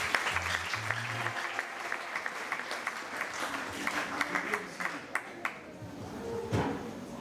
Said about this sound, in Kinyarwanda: Ukomere Imana amashyi.